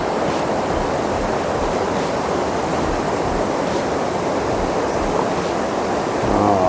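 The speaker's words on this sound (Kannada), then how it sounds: "ಆ ಕಡೆ ಬಟ್ ಫೋರ್ಸ್ ಇದೆ, ವಾಟ್ರು ತುಂಬ ಫೋರ್ಸ್ ಇದೆ." Forceful water rushes over a waterfall at Hampi in a dense, steady roar of broadband noise, loud and unbroken throughout with no voices over it.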